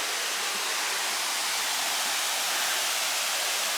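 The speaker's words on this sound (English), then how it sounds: "Can you see the waterfall through the trees?" Steady broadband roar of a waterfall glimpsed through trees, a constant rushing wash that holds even and fairly loud from start to finish with no voices.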